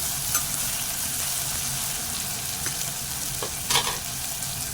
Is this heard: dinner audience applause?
no